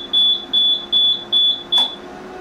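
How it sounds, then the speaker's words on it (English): Alarm on a UV spot curing unit running its lamp at maximum power gives five regular high-pitched electronic beeps, each about a quarter second long, loud and evenly spaced with no talk over them. "that the alarm will kick in and latch in for that curing cycle."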